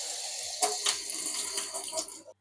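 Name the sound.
boiled water being poured in with rice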